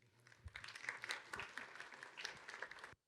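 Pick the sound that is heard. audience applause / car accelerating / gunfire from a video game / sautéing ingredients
audience applause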